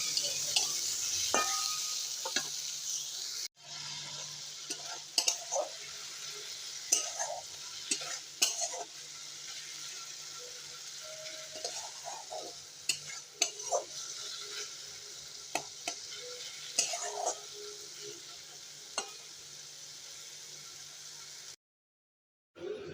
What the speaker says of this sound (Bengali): সেই তেলের মধ্যে বেগুনগুলো হালকা করে ভেজে নেবো